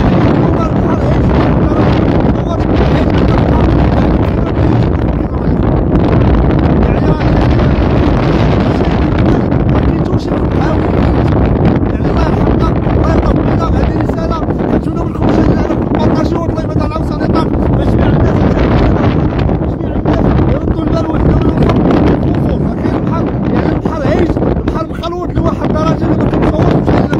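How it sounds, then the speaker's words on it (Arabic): Strong wind roars across the microphone beside a rough, choppy sea at Bouznika, a loud, constant buffeting rush with surf underneath that never lets up. "واحد الرياح اللي هي قويه كاينه هنا في بوسنيقه"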